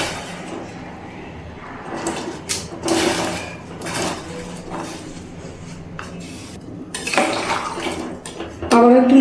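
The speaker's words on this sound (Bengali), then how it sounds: "এবার আমি যে ইঁচড়টা কেটে রেখেছিলাম সেটাই জলের মধ্যে দিয়ে দিচ্ছি" Pieces of cut raw jackfruit drop into water in a cooking pot while making Bengali echor chingri. Intermittent clattering knocks and splashy bursts sound close by, with a louder rattle near the end.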